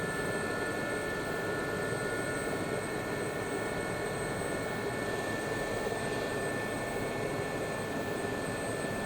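Gazelle helicopter in the DCS flight simulator lifting off for takeoff, a steady close rotor and turbine drone with whine tones, unbroken and alone without talk.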